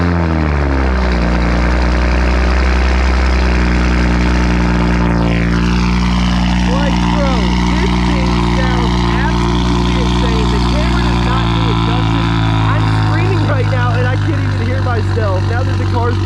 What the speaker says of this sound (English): I'm going to set the camera down and start the car so you guys can hear this for yourself.